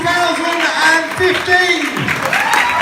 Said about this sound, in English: Let's give Laura another round of applause.